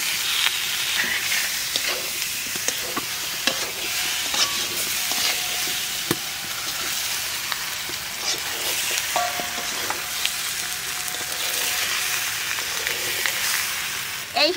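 Potatoes and goose eggs hit a pan of frying spices for an egg curry, a loud, steady sizzle with repeated scraping and tapping from a stirring spatula.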